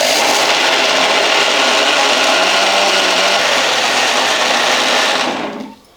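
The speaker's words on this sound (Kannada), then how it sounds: "ಇದೊಂದು ಸ್ವಲ್ಪ ನುಣ್ಣಗೆ ರುಬ್ಕೋತೀನಿ ರೀ" A mixer grinder whirs loudly and steadily, grinding tomatoes and rava into dosa batter, its pitch dropping slightly midway before the motor cuts off and winds down at the end.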